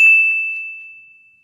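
A single bright bell ding rings out clearly, then its pure tone slowly fades over about a second and a half.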